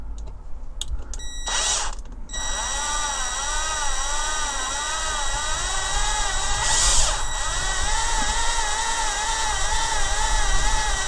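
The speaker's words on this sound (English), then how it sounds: "with this drill, you can go really slow with this one" A power drill runs slowly and steadily while restoring a Dinky 259 die-cast toy fire engine, its whining motor pitch wavering up and down, with a couple of brief bursts of higher speed.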